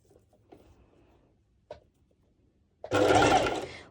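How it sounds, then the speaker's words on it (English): A sewing machine stitches along the edge of bikini underwire channeling, a short close burst of whirring near the end after quiet handling taps, with no voices. "sew as much as you can on the edge of your underwire channeling"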